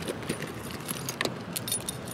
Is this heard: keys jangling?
yes